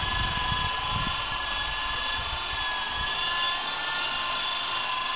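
An E-sky radio-controlled model helicopter flies nearby with a steady, high-pitched electric whine and a constant rotor buzz that hold at an even, loud level throughout.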